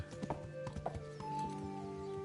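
Horse hooves clip-clop in a quick, steady rhythm, close and clear, with a brief whinny and a low game-world hum underneath, in Kingdom Come: Deliverance.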